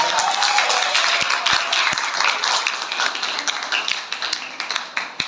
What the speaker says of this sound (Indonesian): kita kasih aplaus kepada